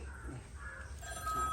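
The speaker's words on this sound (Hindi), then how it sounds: "मोबाइल बज रहा है, उधर बज रहा है" A mobile phone rings indoors, a faint electronic ringtone with repeating tonal bursts sounding somewhat distant at low volume.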